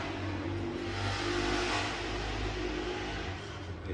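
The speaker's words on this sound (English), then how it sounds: "These guys around here on these dirt bikes, man, I love them." Dirt bikes ride past with a mid-pitched engine drone that swells as they come nearest, then fades slightly, heard from a moderate distance with no talking.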